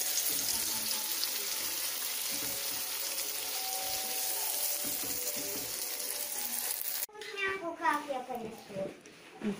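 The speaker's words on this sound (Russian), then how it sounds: "А я люблю яичницу с помидорами, поэтому я себе жарю с помидорками." Eggs fry with tomatoes in a pan, a steady close hiss that stops abruptly near the end, with a person talking over it.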